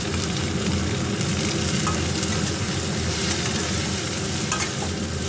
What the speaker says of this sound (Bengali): পেঁয়াজগুলো লাল লাল ভাজা হয়েছে, এই অবস্থায় টমেটোগুলো দিয়ে দিলাম।